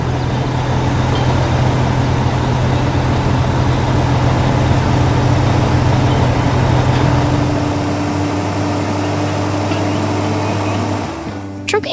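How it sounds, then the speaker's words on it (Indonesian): Heavy trucks work in sandy ground on a farm, a steady loud low engine drone with rumbling and traffic-like noise running throughout before cutting off abruptly near the end. "Semua truk sedang bekerja keras di tengah tanah pasir yang menarik dan suasana yang penuh semangat"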